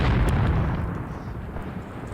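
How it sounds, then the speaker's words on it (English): Mortar shells bursting in the war game Mius Front, a dense rumbling barrage of booms and crackling blasts with no clear gaps, loud and continuous throughout. "We got a few mortars that are still going off, though."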